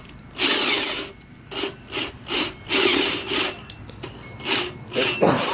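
A power drill whirs in repeated short bursts, drilling into a DIY cichlid breeding cave, starting and stopping in an uneven rhythm, close by with no talking.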